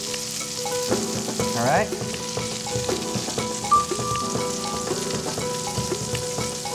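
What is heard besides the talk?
steak frying in a cast iron pan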